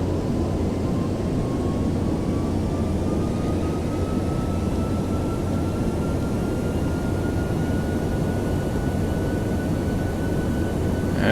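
Boeing 747 jet engines in the iFly 747 flight simulator game, a steady loud broadband roar with a low hum and a faint rising whine, continuous and alone with no talk.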